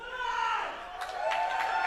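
Crowd at a 2015 Enigma Pro Wrestling show cheers and roars in a steady broad wash, swelling again after a brief dip and staying loud throughout, with no clear voices standing out.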